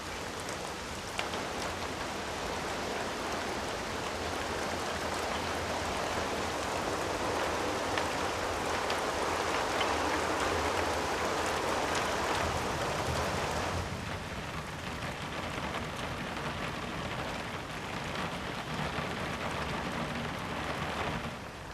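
Steady rain falls in a tropical forest as the wet season begins, a dense, unbroken hiss of drops on foliage that runs the whole time, easing slightly toward the end, with a possible hint of distant thunder.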